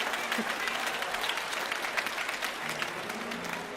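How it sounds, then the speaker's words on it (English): A church congregation claps in the middle of a sermon, a lively and fairly loud burst of applause with brief voices and tones mixed into the crowd noise. "y'all got to stop clapping"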